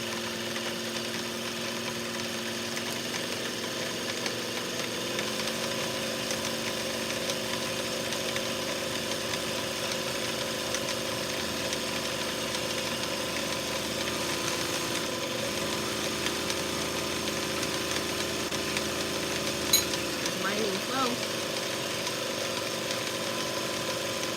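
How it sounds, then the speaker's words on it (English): A sewing machine winding a bobbin, its motor whirring in a steady mechanical hum that shifts pitch a few times and runs continuously for over twenty seconds, close and moderately loud with no talking. "So I'm gonna wind that bobbin up."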